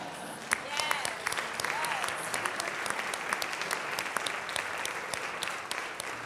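A church gathering's audience applauds a committee with sustained, dense clapping from many hands that holds steady the whole time, with some voices mixed in.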